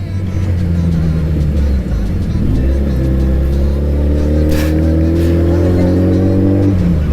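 A Suzuki Hayabusa motorcycle engine revs loud and close, its pitch climbing and holding in rising steps over a steady idle rumble on a street.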